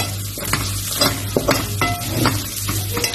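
Onions sizzling in a hot pot for sayadieh rice, a dense close frying hiss with repeated stirring scrapes and spoon knocks throughout, no voices.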